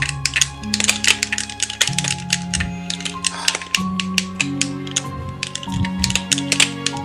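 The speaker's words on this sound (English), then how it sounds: "So forgive the melee clicking noise." Rapid controller button clicks while playing Super Smash Bros. Melee, dense irregular clacks under steady background game music.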